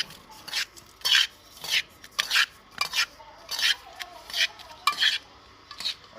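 Flax seed laddu mixture with dry fruits being mixed in a bowl, a loud close series of rhythmic scraping, rasping strokes about every half second, with no voices.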